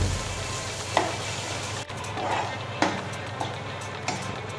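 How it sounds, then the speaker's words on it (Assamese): Paste fries in the same pan with a constant sizzle, punctuated every second or so by the scrape and knock of a spatula stirring it. "একেখন পেনতে পেষ্টখিনি ভাজি লম ভালদৰে।"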